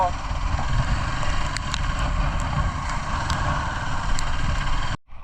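A steady, rumbling motorcycle engine drone, heard while riding on a monsoon ride through Kuduremukha, Chikkamagaluru, runs continuously, loud and close, cutting off abruptly at the end.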